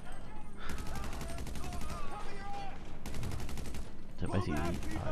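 Automatic gunfire crackles through a GTA V Online mission, with dense repeated bursts over a constant rumbling game backdrop and a louder burst near the end.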